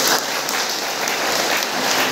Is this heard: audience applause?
yes